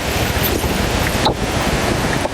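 Water from an overflowing drain pours onto a road in a steady, loud rushing wash, mixed with wind buffeting the microphone. No one speaks.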